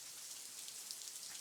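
Steady, dense rain patters on a roof overhead, a continuous close hiss of drops with no voices.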